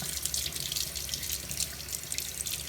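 Tap water runs steadily over a synthetic paint brush being rinsed under a faucet, a continuous close hiss and splash into a sink with no pauses.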